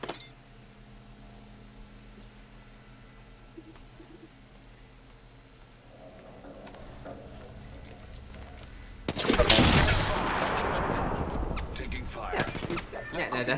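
Gunfire in the Apex Legends battle royale game breaks out as a sudden loud burst of rapid shots late on, after a stretch of quiet in-game ambience.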